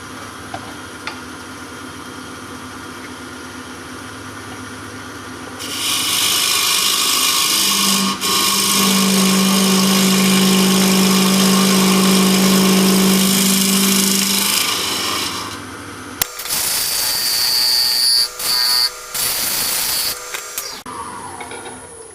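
Box scraper cutting wood spinning on a lathe, a loud steady motor whine with a rough scraping hiss that runs for several seconds, then choppier intermittent cuts before winding down.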